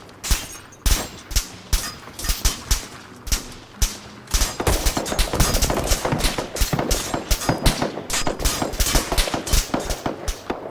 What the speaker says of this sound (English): I think these guys up on top are also shooting down